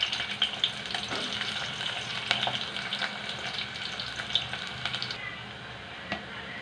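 Onions frying in a pan for a beerakaya (ridge gourd) curry, a steady close sizzle with faint stirring clicks running throughout and no talk.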